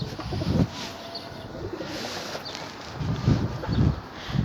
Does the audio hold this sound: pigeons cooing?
yes